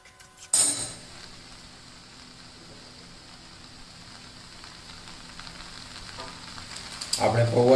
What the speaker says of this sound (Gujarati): હવે એને શાકભાજી સાથે સારી રીતે મિક્સ કરી લઈશું.